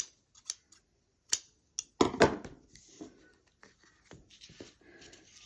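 Scissors cutting through material: a handful of sharp snips followed by a denser burst of cutting and rustling, close and fairly quiet, with no one talking.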